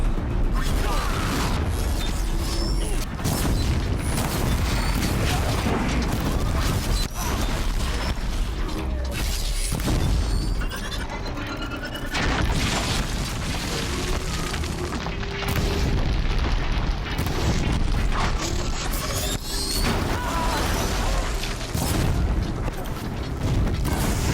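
Mechanical robot Striders blowing apart in the video game Horizon Zero Dawn, heavy booms and clanking metallic debris layered over dense, loud continuous game action throughout.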